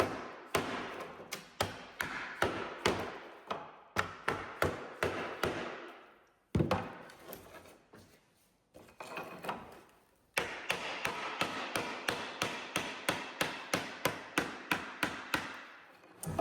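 Block tapped against the edge of a furniture panel during restoration of a rough old piece with through tenons, in two long runs of sharp, evenly spaced knocks separated by a brief pause, close and loud.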